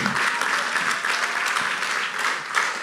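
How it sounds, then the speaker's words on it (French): A church congregation applauds and cheers loudly at a men's weekend service, with dense clapping and crowd voices sustained throughout, close and full. "acclame encore Jésus-Christ de Nazareth. Acclame-le très fort"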